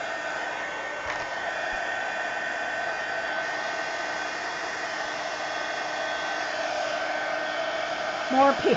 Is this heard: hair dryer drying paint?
yes